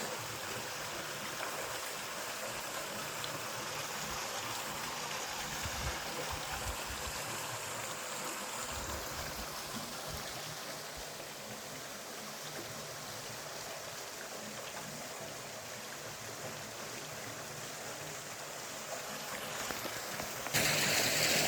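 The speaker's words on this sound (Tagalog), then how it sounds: "Pakalino ng tubig oh. Kahit na kukunti na lang yung maagos." A shallow stream flows in a steady, even rush of water, continuous and close with no voices, the current running thin but clear.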